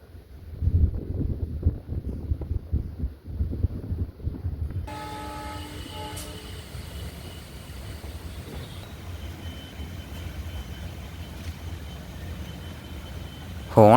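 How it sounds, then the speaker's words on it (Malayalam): A diesel passenger train sounds a long horn at Kundara station, then rolls slowly away, its low rumble and wagon clatter steady beneath wind noise on the microphone. "ഹോണൊക്കെ അടിച്ചു ട്രെയിൻ ഇപ്പോൾ പയ്യെ കുണ്ടറയിൽ നിന്ന് എടുത്തു."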